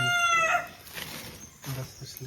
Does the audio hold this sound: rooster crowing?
yes